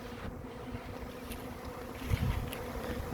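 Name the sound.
bee swarm moving into nest box trap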